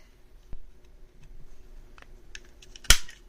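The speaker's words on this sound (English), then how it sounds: "I just used my regular We Are Memory Keepers corner punch there" We Are Memory Keepers corner punch rounding paper corners: a few faint, sparse clicks and snaps in a quiet room, ending with one sharp louder punch.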